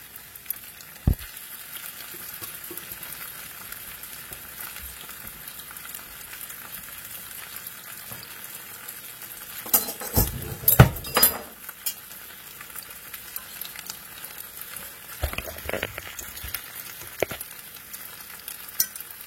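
Food cooks in a pan with a steady, soft sizzle and crackle, broken by a brief burst of louder scraping and clatter from stirring midway through.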